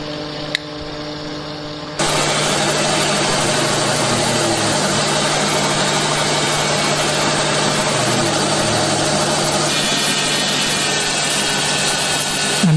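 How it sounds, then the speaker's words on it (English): A steady motorized drone and hum, like a drill press spinning up and running continuously after a brief quiet start, drilling pivot holes in knife scales with a 3/32-inch bit. "Using a 3/32 drill bit to drill the holes for the pivots."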